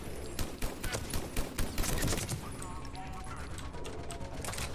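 A turret in Mass Effect 3 fires rapid bursts of gunfire, a dense clatter of shots that is loudest early and then continues as a quieter rattle.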